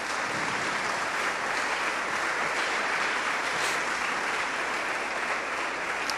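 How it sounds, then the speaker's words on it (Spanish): A church congregation claps for the Lord in a steady, dense, unbroken wash of applause that stays loud and even from start to finish, with no pauses. "dele palmas al Señor si usted lo cree"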